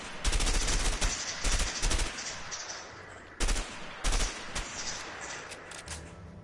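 Rifle fire in a video game: bursts of rapid automatic shots, loud and close, in several volleys separated by short pauses, no talking.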